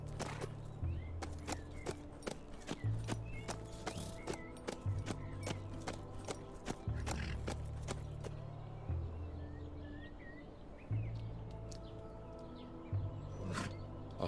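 Hooves of a ridden horse in the zombie survival game HumanitZ, exploring the map on horseback, a steady plodding clip-clop over a low ambient bed with sparse bird calls and no talk.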